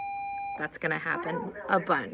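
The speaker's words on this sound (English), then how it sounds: "I apologize for the beeping," An electronic beep sounds in a room as a steady, thin, high tone lasting about half a second, then a person starts talking once it stops.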